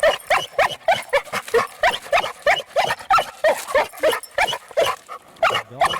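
A dog barks in a rapid, steady series of loud, close yaps and bow-wows for several seconds outdoors near a fishing spot, without any talking.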